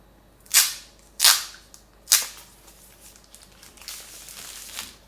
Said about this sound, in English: I'm going to go ahead and remove the plastic and let's see how does that sound.